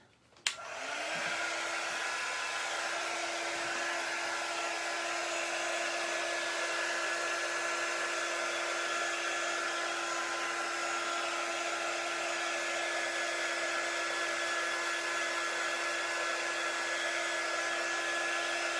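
A hair dryer drying a Christmas craft transfer: the motor clicks on and then blows in a loud, steady, close whir with a constant hum, continuing unbroken and alone without any voices.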